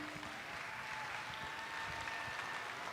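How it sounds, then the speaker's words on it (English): Audience applause at a charity steer show, a steady dense wash of clapping from a crowd that holds evenly throughout with no talk over it. "Let's give them all a big round of applause."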